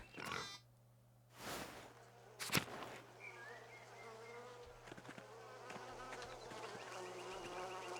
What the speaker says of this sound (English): They have bees.